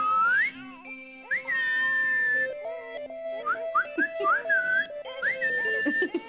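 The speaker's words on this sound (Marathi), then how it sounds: "हे बघा, ही साधी शिट्टी." A plain toy whistle is blown in repeated shrill, warbling chirps, some rising and some held, close and fairly loud.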